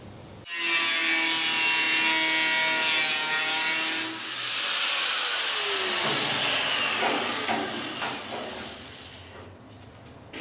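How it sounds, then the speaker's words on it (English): An angle grinder cuts away a damaged section of a Triumph GT6 steel roof, a loud, sustained high-pitched whine that starts abruptly, shifts pitch as the disc bites into the metal, and fades out near the end. "the angle grinder was once again deployed to remove the affected area"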